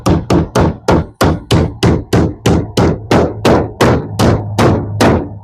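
Nails driven into a prehung window frame in an 8x8 tiny house shed, about fifteen loud, close hammer blows in a steady, even rhythm with no talking.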